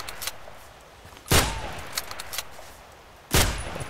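Two loud, sharp rifle shots from an SV-98 sniper rifle in the shooter game Contract Wars, spaced about two seconds apart, with fainter distant gunfire crackling in between.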